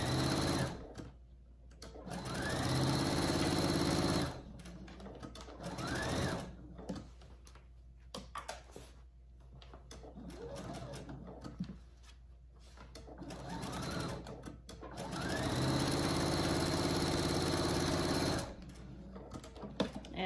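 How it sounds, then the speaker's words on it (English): A sewing machine stitches the armhole of a pillowcase dress in several fast whirring bursts, each lasting a few seconds, separated by short pauses. "that's how you sew the armhole together"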